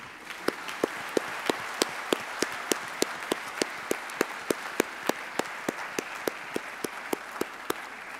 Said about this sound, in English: could I ask you to give one further round of applause in recognition for all our members who have achieved official recognitions today